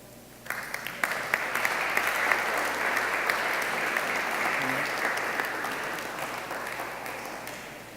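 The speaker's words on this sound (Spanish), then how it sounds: "démosle un fuerte aplauso al hermano John Anderson León" A church congregation at a Spanish-language service applauds warmly to welcome a brother, the clapping starting suddenly and holding as a dense, steady wash from many hands for several seconds.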